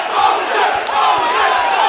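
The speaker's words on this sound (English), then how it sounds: "The crowd behind me are going crazy." A kickboxing arena crowd roars and cheers wildly in a continuous loud, dense wall of voices, with shouts swelling and falling throughout.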